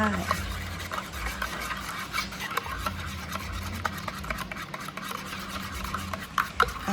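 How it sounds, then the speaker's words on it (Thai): Sugar being stirred by hand to make syrup, with a continuous gritty scraping and rubbing of granules against the pot, close and steady with small clicks. "เราก็ทำการคนไปต่อไปเรื่อยๆจนกว่า มันจะเป็นน้ำเชื่อมนะคะ"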